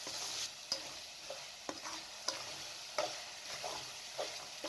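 Chicken liver with garam masala and black pepper sizzles in a pan while a utensil scrapes and taps against it at a steady, irregular rhythm, fairly quiet overall.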